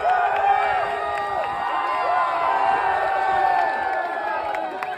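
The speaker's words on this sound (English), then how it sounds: "there's a large crowd there to kind of welcome him" A large crowd cheers and whoops to welcome a runner at the finish at Africa's northernmost point, a loud steady roar of many voices with shouts rising over it throughout.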